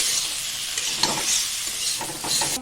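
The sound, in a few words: mustard paste frying in a pan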